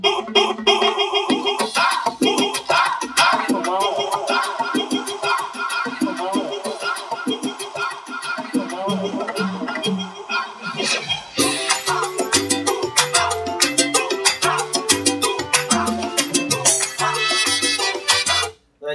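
A DJ track intro with an added building effect, dense electronic music rising steadily before a fuller section with deep bass pulses kicks in, loud and continuous throughout.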